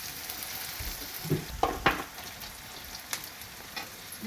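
Onions frying with salt in a pan for a chayote curry, a soft steady sizzle with a few clattering stir strokes near the middle and brief scrapes later, close and alone.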